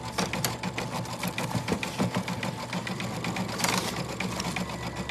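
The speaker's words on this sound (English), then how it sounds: "So this is a sewing and embroidery combo machine." A Baby Lock Altair 2 sewing and embroidery combo machine stitches with a 4x4 hoop fitted, giving a steady, fast mechanical chatter that runs the whole time, close and even with no voices.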